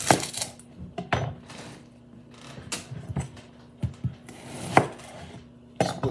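A knife chops through an onion on a cutting board, trimming off its ends: a series of sharp, close thuds and clicks in an irregular rhythm, with quieter handling noise between the cuts and no talking.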